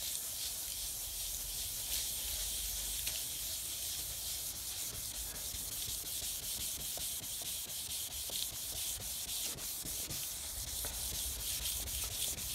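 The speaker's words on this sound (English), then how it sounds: "now I'm going to move on to the 800" Continuous close rubbing and scratching as 800 grit sandpaper is worked by hand across an Audi TT Mk1 headlight lens, with a steady, even back-and-forth hiss throughout.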